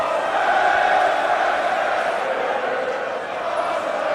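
A big arena crowd in England roars in support of Will Ospreay at a pro wrestling World Cup match against Rey Mysterio. The dense, steady wash of cheering holds at full volume throughout.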